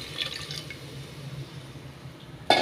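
Ground crab-shell water poured into a cooking pot of sautéed crabs, a soft steady trickle and faint splashing under kitchen background, ending with a sudden louder splash.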